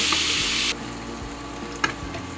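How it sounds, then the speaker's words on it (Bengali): Chopped onions fry toward brown in a pan with a soft sizzle. A brief louder hiss fills the opening moments, then a quieter frying bed follows with one short clink. "পেঁয়াজ কুচি, পেঁয়াজগুলো ভালো করে বাদামি কালার"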